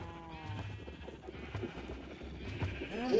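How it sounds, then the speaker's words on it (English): Faint sheep bleats from Minecraft sound a few times, mixed with hoof-like clopping and other soft game sounds. "There's like one pink sheep in there."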